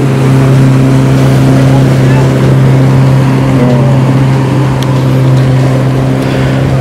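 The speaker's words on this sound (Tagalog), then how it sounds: "Ay, may bangka." A steady, loud engine drone with a strong low hum runs throughout as a boat passes, likely heard from inside a Toyota Wigo car, with people talking over it.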